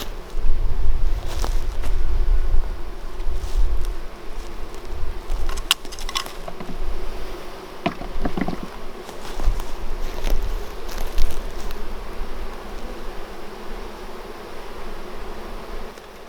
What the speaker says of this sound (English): we're ready to dump these bees out